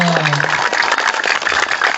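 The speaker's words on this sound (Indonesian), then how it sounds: "tepuk tangan semangat dong" A crowd claps at an outdoor political rally for a regent candidate in Southwest Sumba, a dense, loud burst of applause that continues steadily after a brief tone at the start.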